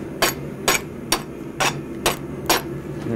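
A farrier's rasp scrapes across metal held in a vise, six evenly spaced gritty strokes about half a second apart, fairly close and moderately loud with no voices.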